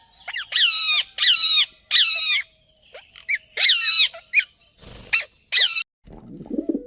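A parrot gives a series of sharp, harsh squawks in bursts, loud and close, with brief gaps between calls and no talking.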